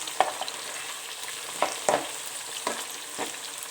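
Masala french fries fry uncovered in a pan, a soft steady sizzle broken by a few sharp stirring scrapes at irregular intervals.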